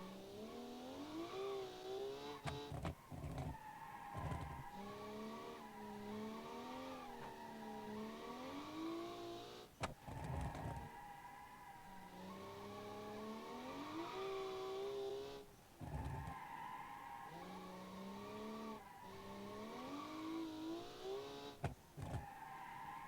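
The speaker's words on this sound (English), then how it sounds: "It's got a well set up turbo engine as well." Turbocharged race car engine on track, revving hard in repeated climbing sweeps with sharp drops at gear changes, loud and close throughout.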